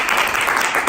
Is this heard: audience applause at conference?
yes